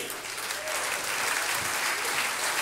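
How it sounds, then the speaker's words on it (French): Warm crowd applause for hockey player Maxime Talbot at an event, a dense, even wash of clapping at moderate loudness, continuous throughout with no talk over it. "Mais Maxime, on l'applaudit!"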